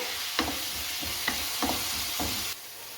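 A large chopped onion with salt fries in a pan: a low, steady sizzle broken by about four scraping spatula strokes at an even pace, then a quieter hiss.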